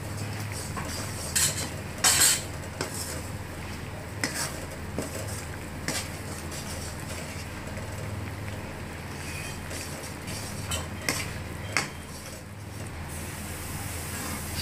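Mysore pak mixture being added scoop by scoop to a pan and stirred, giving a steady scraping and clinking of a utensil against metal with a soft sizzle underneath and a few sharper knocks.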